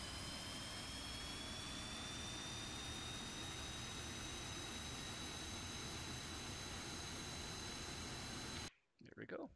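An F-5E jet engine in the flight simulator game DCS World spools up, a loud rushing roar with a high whine slowly climbing in pitch, then cutting off abruptly near the end.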